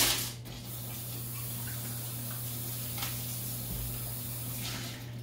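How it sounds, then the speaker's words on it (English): Water runs from a faucet into a sink for a quick rinse after mixing a Caribou Lou cocktail, a steady hissing spray lasting several seconds, heard alone without talk. "That quick rinse."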